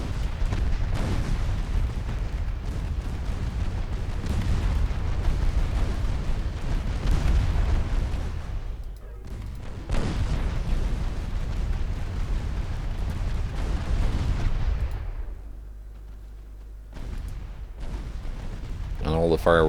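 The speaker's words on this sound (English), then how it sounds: "all the fireworks is making the game just lag a little bit, but that's to be expected when you got thousands of rounds being fired at once" Naval gunfire from a 1963 fleet battle in the warship strategy game Ultimate Admiral Dreadnoughts: dense, continuous booming and rumbling bursts of thousands of rounds, loud throughout with a brief lull near the end.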